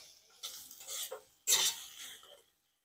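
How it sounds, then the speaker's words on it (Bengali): Mustard greens with potato and peas getting a ghee tempering in a pan, a short burst of sizzle followed by a louder hiss and scraping stir, close and brief before falling quiet. "এটাও একটু ঘি দিয়ে তরকা মারলাম।"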